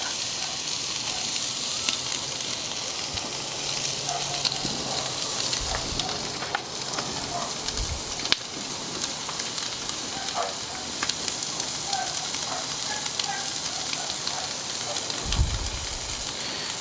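Anaheim chilies sizzle and crackle steadily on a hot grill beside steaks, a dense even hiss with occasional louder pops and thumps, close and continuous with no talking.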